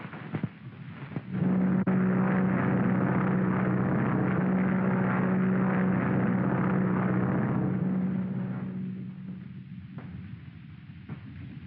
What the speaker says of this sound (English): Okay, chum, I'll get the plane.